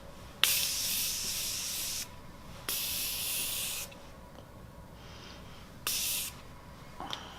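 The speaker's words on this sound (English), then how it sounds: "I'm just gonna do the setting spray and then leave it at that." Three short bursts of a makeup setting spray bottle hissing up close, each lasting about a second or so, separated by quiet pauses with faint handling noises.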